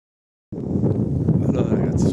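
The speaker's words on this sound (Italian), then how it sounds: "scusate il vento" Wind buffeting a microphone outdoors at night in a residential condominium courtyard, starting abruptly after a half second of silence, with low rumbling gusts and rustling.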